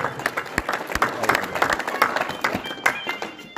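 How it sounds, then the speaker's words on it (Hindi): Applause from a village audience at a welcome ceremony honouring a farmer in Maham, with uneven claps and sharp individual slaps running throughout, and a voice or two mixed into the crowd noise. "तालियों से स्वागत।"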